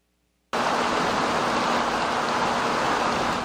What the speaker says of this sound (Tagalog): Pabugso-bugso ang buhos ng malakas na ulan sa ilang bahagi ng Albay kaninang umaga.